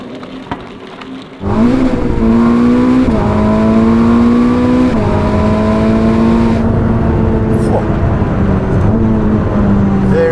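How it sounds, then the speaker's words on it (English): A Ferrari SF90 supercar engine starts and then revs hard for several seconds, its loud whine climbing and dropping through repeated rises in pitch at close range, with no talking. "how loud is this engine in stock form?"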